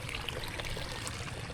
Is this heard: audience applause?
no